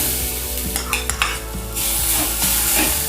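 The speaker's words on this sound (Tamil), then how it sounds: "அதையும் நம்ம ஆட் பண்ணி நல்லா வறுக்க போகிறோம்" Grated coconut stir-fries in a pan with a steady close sizzle, joined by scraping strokes of a spatula and a couple of brief clinks.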